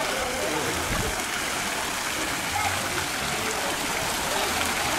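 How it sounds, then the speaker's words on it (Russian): A small waterfall at the Grand Paradise Samana beach hotel in the Dominican Republic gives a constant, close rushing splash of falling water, steady and unbroken throughout. "Водопадик."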